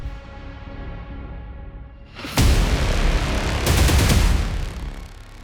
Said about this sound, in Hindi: तेल अवीव में धमाके, कैमरे में कैद डरावनी रात का सच।